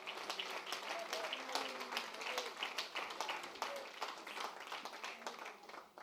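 A church congregation applauds together, many hands producing a steady, dense patter of claps that carries evenly for several seconds at low volume before tapering slightly at the end.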